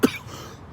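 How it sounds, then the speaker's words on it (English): One short, sharp cough from someone recovering from COVID-19, close to the microphone, followed by a quick fading tail in an otherwise quiet room. "these coughing episodes will die down"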